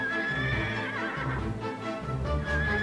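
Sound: horse neighing

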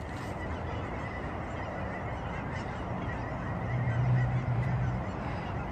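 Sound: geese honking

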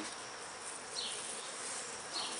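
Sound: robber bees buzzing in an open beehive

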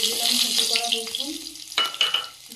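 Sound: tempering dal with dry chilli and garlic in oil

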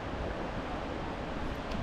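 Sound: waterfall on Jeju Island

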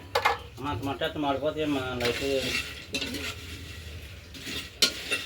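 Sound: peanuts being roasted and stirred in sand on stove

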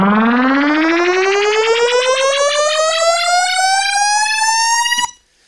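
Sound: synth riser with phaser effect in Ableton

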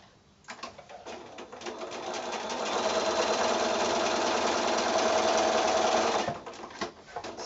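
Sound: sewing machine stitching quilt block seam

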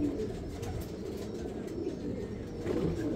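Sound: pigeon cooing

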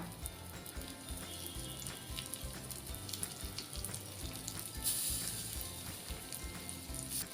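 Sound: fish pieces frying in oil on an iron tawa

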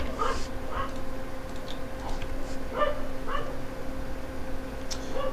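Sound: dog barking and whimpering

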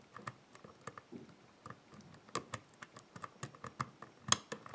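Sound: picking tool turning the cam of a euro cylinder lock

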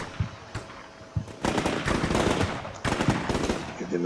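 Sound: machine gun burst in Combat Mission Shock Force 2 video game

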